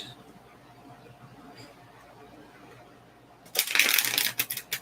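Empyrean oracle deck cards are shuffled up close in a short, crisp flurry of riffling slaps that bursts out after several seconds of near silence.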